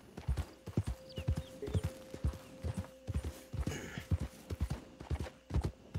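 Horse hooves clip-clopping at a steady trotting rhythm in the video game Red Dead Redemption 2, close and fairly loud, with a faint whinny and light game ambience beneath.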